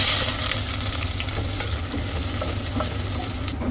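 Onions sizzle and crackle in hot reused cooking oil in a pan, a loud, continuous close-up frying hiss with small pops scattered through it.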